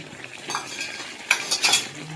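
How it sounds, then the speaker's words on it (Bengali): A spoon stirs turmeric into marinated chicken in a pan, scraping and clinking in a soft first burst and then louder, brisker strokes, with no talking. "এটা আমি এবার হলুদ দিয়ে দেবো।"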